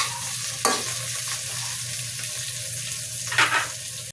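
Vegetables, including Baguio beans, stir-fried and sautéed in a pan, giving a steady close sizzle with two short bursts of scraping and stirring, and no talk.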